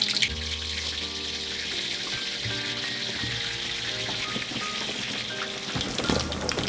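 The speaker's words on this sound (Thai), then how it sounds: "หย่อนไก่ลงไปเลยครับ เวลาทอดต้องทอดใจเย็นๆนะครับ" Chicken pieces fry in oil over gentle heat, giving a continuous, close bubbling sizzle with faint clinks and scrapes of a utensil, and no talking.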